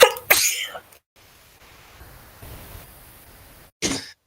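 A single loud sneeze bursts out near the start, followed by a quiet stretch of low background hiss on an online voice chat, then another short sharp burst near the end.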